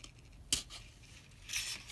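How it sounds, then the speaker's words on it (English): Scissors pierce a sheet of paper for a craft project: one sharp snip-like crunch, followed a second later by a brief crinkly rustle, close and fairly quiet. "using either your pencil or a pair of scissors, we're going to make a little hole at the top"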